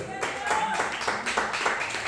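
A church congregation gives a loud round of applause for Jesus Christ during a Spanish-language sermon, steady rhythmic clapping with voices mixed in throughout.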